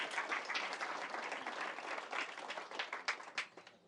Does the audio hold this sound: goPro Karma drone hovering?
no